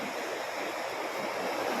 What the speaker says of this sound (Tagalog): ang alon sa dalampasigan nagingit-ngit po